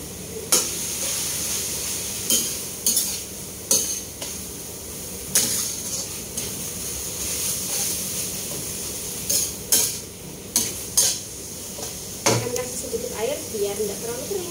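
Fish being stir-fried in a pan at home, with a steady low sizzle broken by repeated clinks and scrapes of a utensil against the pan, close and moderately loud, with some background noise.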